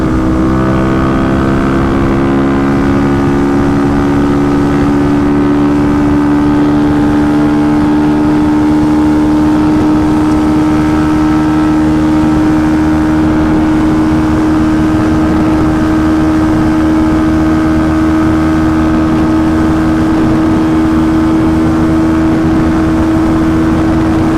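A 35-horsepower Kawasaki KLX351 motorcycle holds a loud, steady engine drone at high speed near 100 miles an hour, with pitch climbing slightly and a constant rush of wind throughout.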